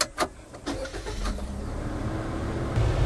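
A car engine turns over and settles into a steady idle, starting with a few sharp clicks and a brief cranking burst before a continuous low hum, close and fairly loud with no talk.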